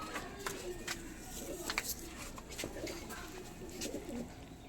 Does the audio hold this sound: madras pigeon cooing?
yes